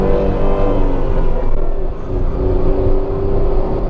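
A Tata Altroz 1.2L petrol car accelerates in eco mode, its engine droning loudly and steadily with a rising tone, heard from inside the cabin.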